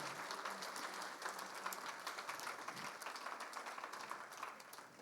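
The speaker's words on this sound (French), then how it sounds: "Est-ce qu'on peut applaudir le Seigneur pour ce qu'il a fait dans la vie des baptisés ?" A church congregation applauds the Lord after a baptism service, sustained dense clapping from many hands that fills the room evenly for the whole stretch with no voices standing out.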